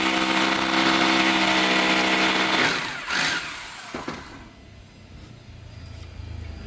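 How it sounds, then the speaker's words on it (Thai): A worker runs a power drill on a house construction site, a loud steady whine that holds for a few seconds, then cuts off into quieter site noise with a couple of knocks. "เสียงอาจจะดังนิดนึงนะคะว่าช่างเจาะ"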